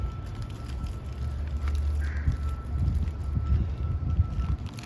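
Wind blows steadily outdoors, with low buffeting rumble against the microphone and soft rustling throughout, no voices heard.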